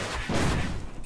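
In the anime-style metroidvania game Tevi, a red shot fires as a dense, noisy burst that stays steady and fairly loud for about a second, with no talking over it.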